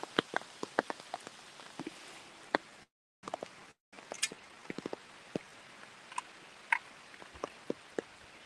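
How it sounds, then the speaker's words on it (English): Rain patters during a Monday afternoon fishing outing, scattered drops ticking and tapping on a surface close by over a soft wash, cutting out briefly twice midway. "today it's been raining in spurts"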